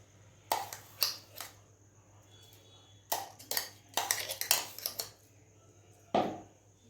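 Grated carrot being stirred into a gram flour batter in a bowl, heard as sparse clinks and scraping knocks of a utensil against the bowl in short irregular bursts with quiet gaps and a low background hum.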